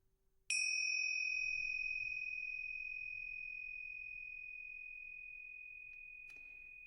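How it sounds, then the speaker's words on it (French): A single meditation bell is struck once and rings out clear and bright, its tone fading slowly over several seconds in a quiet room, with a faint soft tap near the end. "Au tintement de la cloche, tu vas revenir ici et maintenant"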